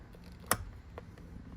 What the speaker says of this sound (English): If you can hear that clicking sound.